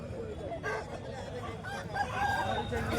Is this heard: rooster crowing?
yes